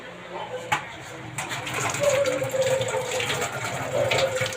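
Tap water runs steadily into a sink while hands are washed, a continuous splashing rush at moderate level with children and adults talking over it.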